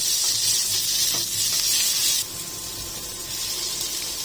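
Onion, garlic and tomato sauté in a hot pan with a steady, close sizzle that drops slightly in level partway through, with no voices.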